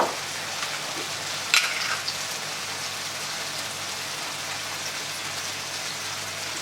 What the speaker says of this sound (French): نخليهم يتقلاو غير شويه